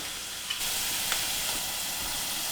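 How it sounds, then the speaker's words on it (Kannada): Sliced carrots and beans added to onions frying in a pan for spinach pulao, setting off a loud, steady, close sizzle that holds throughout with faint stirring clicks. "ಈರುಳ್ಳಿ ಕೆಂಪಗಾಗಿದೆ, ಈಗ ತರಕಾರಿ ಹಾಕೊಂಡ್ಬಿಡೋಣ."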